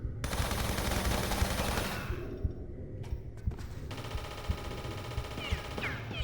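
A turret fires in Tomb Raider 3 Remastered as a rapid, dense burst of machine-gun shots that breaks off, followed by sharp single reports and another sustained volley.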